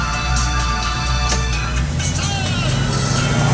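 A Dodge Dart GT cruises along with a steady low engine drone and road rumble, heard from inside the car while someone talks over it.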